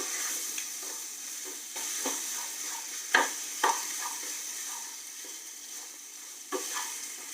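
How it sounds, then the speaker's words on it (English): Masala for no-onion, no-garlic Jain pasta sizzling in a pan while being stirred, a continuous close hiss broken by several sharp scrapes and taps of the spoon, no voices. "And then again I'm going to give it a good mix. And then we'll let the masalas cook."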